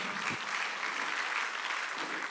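A church congregation at a Korean worship service claps steadily in a dense, continuous wash of applause, filling the room evenly for a couple of seconds with no voices on top.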